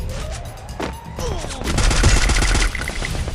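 Bursts of rapid gunfire in the battle royale game Free Fire, loud and close, with dense automatic shots building to a sustained volley before tapering off.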